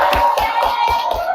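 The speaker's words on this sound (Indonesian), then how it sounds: "Oke, tepuk tangan." A small audience claps for Reva at a motivational talk, with a handful of separate, fairly loud hand claps spaced about a quarter second apart over a steady background tone.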